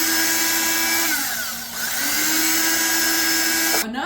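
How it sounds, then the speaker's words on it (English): An electric knife runs steadily while cutting corn kernels off the cob. Its loud motor whine sags in pitch as the blade bites into the cob, then recovers and stops abruptly near the end. "If you got an electric knife, you can use it. Boy, now that makes it fast."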